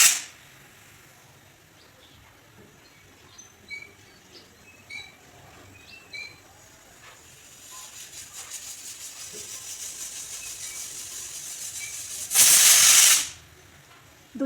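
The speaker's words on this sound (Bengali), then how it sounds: "দুইটা সিটি দেওয়ার পর তা আমি অফ করে দেব।" Pressure cooker on the stove cooking prawns for malai curry: faint background clinks at first, then rising steam hiss before a loud, sharp whistle blast of about a second near the end.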